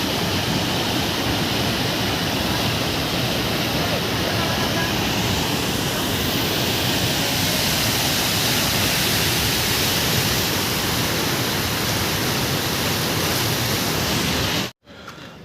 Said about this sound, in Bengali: তাতে জলের স্রোত দেখো।